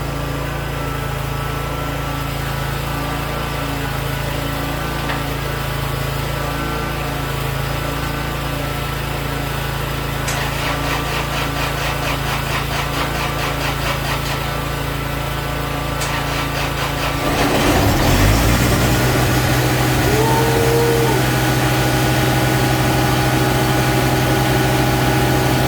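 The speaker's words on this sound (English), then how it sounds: "let's see if the big mower will start" A big lawn mower engine that has sat unused for a while hums and rattles steadily at close range, then shifts into a louder, fuller running note partway through; no one speaks.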